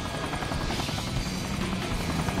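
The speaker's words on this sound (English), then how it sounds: "Quick! Destroy the helicopter!" Helicopter in the video game Sonic Generations, a steady, loud rotor chop with a dense whirring drone that holds evenly throughout with no talking.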